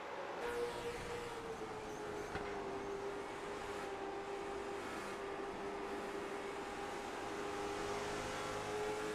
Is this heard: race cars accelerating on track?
yes